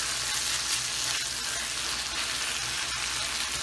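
Karahi kabab cooking in a pan over a flame turned up high, a continuous dense sizzle and bubbling hiss at steady loudness with a couple of faint knocks, heard close and alone.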